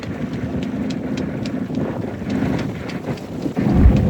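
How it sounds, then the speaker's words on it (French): Strong, gusty wind buffets a sailboat heading back into port in a force 5 breeze, roaring steadily against the microphone with low rumbling surges and occasional louder blasts. "le vent est monté en puissance"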